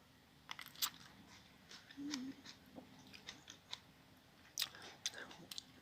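Close, quiet chewing of a crunchy, juicy muscat-flavoured grape, with sharp crunchy bites and wet, juicy squelches in irregular bursts, with a faint murmur of a voice.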